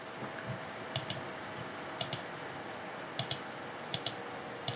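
Computer mouse clicks while working in Revit 2023, four evenly spaced pairs of crisp double clicks, close and quiet over a faint room hum, no talking.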